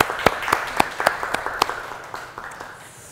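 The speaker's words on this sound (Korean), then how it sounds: "여러분들 박수 한번 부탁드리겠습니다" An audience at a humanities lecture event claps for the staff, with sharp, evenly spaced claps in a steady rhythm that soften and fade out over a few seconds.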